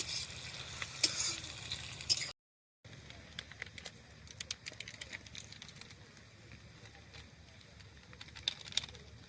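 Onions and masala fry in a pan at an outdoor picnic, a soft, steady sizzle with scattered crackles and pops, briefly cut off partway through.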